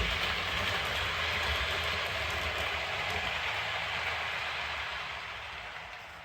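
Heljan model locomotive rolling along layout track, a steady soft whirring rumble with light rail noise that slowly fades toward the end as it slows, no voices.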